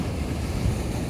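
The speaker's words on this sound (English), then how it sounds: "Of course, a big wave comes in." Ocean surf rolling in beside a small tide pool on a rocky coastline, a steady broad wash of water with a slight swell near the middle, heavy and continuous with wind noise on the microphone.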